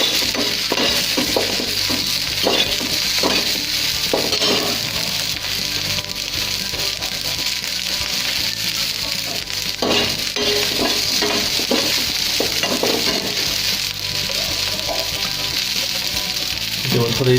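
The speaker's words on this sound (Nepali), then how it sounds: "ओके, हाम्रो प्याज पनि अलमोस्ट फ्राई भइसकेको छ." Onions sizzle steadily in a hot pan while being stirred for Tibetan thenthuk, a loud continuous fry broken by occasional scrapes and stirring clatter with no talk.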